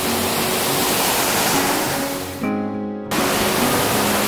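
A backcountry creek waterfall roars as a constant, loud broadband rush along a Pennsylvania backpacking trail, nearby and steady, briefly cut by a short tonal electronic interruption before the water noise resumes.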